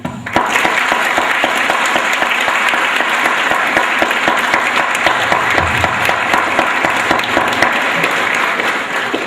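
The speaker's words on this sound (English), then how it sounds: "let us together applaud those here who are here tonight this evening" Loud, sustained applause from a large crowd at a graduation ceremony, dense and continuous clapping that fills the whole stretch without a break.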